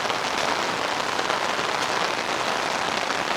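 Heavy rain pours steadily onto a pig pen roof at a small backyard farm, a dense, even hiss and patter that fills the clip without letup and with no voices.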